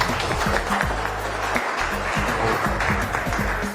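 Crowd applause at an Indonesian business presentation event, steady sustained clapping with loud thumping dance music playing underneath throughout.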